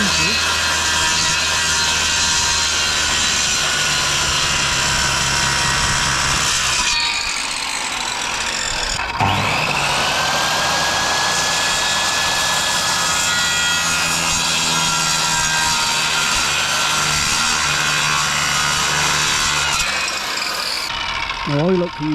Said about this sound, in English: now I like to use a circular saw because that keeps everything so square